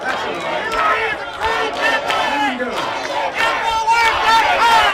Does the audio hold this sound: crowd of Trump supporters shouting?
yes